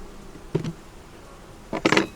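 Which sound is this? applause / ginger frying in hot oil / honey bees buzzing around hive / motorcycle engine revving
honey bees buzzing around hive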